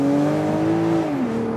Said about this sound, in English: It almost sounds a little bit like a Formula One car